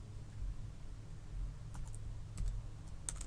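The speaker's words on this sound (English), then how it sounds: "So I'm going to start typing a character." A few soft, scattered keystrokes tap on a computer keyboard, faint and close over a quiet low hum, with no talking.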